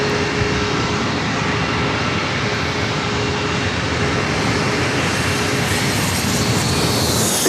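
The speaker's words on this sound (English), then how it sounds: "Jetlink Aviation coming in from Sacramento, a Hawker 800 XP" A Jetlink Aviation Hawker 800 XP business jet arrives at San Diego airport, a loud continuous broadband engine roar that stays steady and close for the whole stretch, with no voices.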